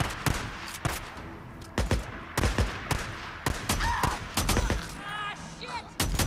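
Gunfire from a machine gun in the zombie-survival video game Days Gone, several loud, sharp bursts of shots scattered unevenly, with a voice briefly talking in between.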